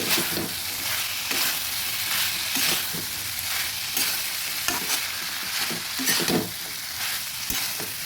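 Soybean chunks and fried potatoes with chickpeas are stirred in a hot pan, with a constant close sizzle and regular scraping strokes of a spatula repeating roughly every second.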